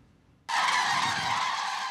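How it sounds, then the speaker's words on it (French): Tens of thousands of common cranes take off together in northern Israel, a sudden loud, dense wall of wingbeats and honking calls bursting in after half a second of quiet and continuing steadily. "Des dizaines de milliers de grues cendrées prennent leur envol."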